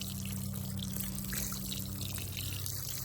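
Water-soluble organic fertilizer mixed in water pours steadily onto garden soil, a continuous close splashing trickle.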